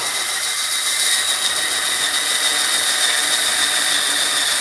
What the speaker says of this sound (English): we slide our drill bit through the hole in the post.